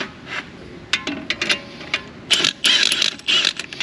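A 10mm wrench tightening nuts on a 1962 Chevrolet C10 during suspension work, giving a run of short metallic ratcheting clicks and scrapes in irregular bursts, close and fairly loud, with no talking.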